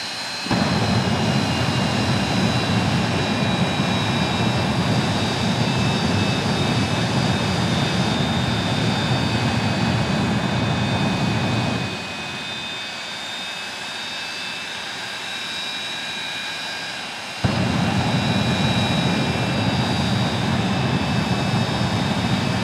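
A jet truck engine roars at a night speedway thrill show while blasting and melting a van, a loud continuous jet whine and rumble that dips briefly in the middle before surging back.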